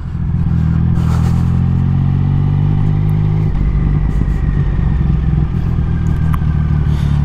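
A loud Triumph Speed Triple motorcycle engine runs steadily and close up, with a deep, thick rumble. The note shifts partway through into a rougher, clattering pulse, and no voices are heard.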